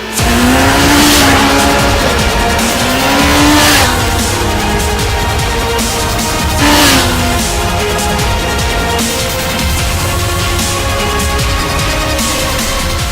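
A Kawasaki ZX14R motorcycle accelerates hard on an open road, its engine a loud, steady roar that rises in pitch through the gears and stays close and continuous throughout.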